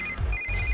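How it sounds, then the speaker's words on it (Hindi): A phone ringtone ringing, a short bright electronic tone repeating over a low background hum, alone without speech. "इस वक्त दीदी का फोन।"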